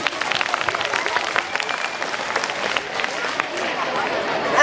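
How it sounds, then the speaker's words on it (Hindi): Audience applause and clapping at a school farewell function following a Class 11 science English-medium dance performance, a steady dense patter of many hands sustained throughout. "क्लास 11 साइंस इंग्लिश मीडियम के सुपर डांस के लिए एक बार जोरदार तालियां"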